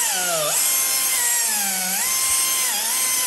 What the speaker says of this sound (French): C'est une fraise, c'est juste pour vraiment fignoler les angles de la réparation.